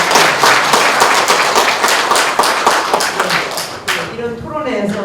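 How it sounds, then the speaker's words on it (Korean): Audience applause at a Korean political debate forum, a crowd clapping in a brisk, steady patter that fades after a few seconds into a lone voice speaking. "여러분 다시 한번 박수로 감사드립니다."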